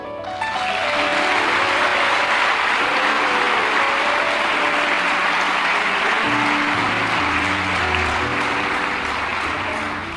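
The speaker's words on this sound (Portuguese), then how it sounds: "Se você quer, você aplaude" Sustained applause from a church congregation fills the space, dense and steady for the full stretch, with faint sustained tones underneath and no clear talk over it.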